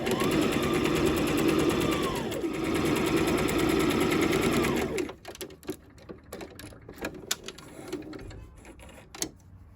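Stitching the side seams of a jogger top, a sewing machine hums in a steady, rapid run for about five seconds, briefly slowing midway, then stops and gives way to scattered clicks and fabric handling.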